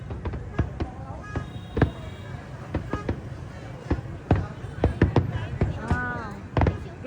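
Fireworks for the 50th anniversary of Southern Liberation in Vietnam go off as a string of sharp pops and bangs at irregular intervals, with crowd noise and people talking and exclaiming close by.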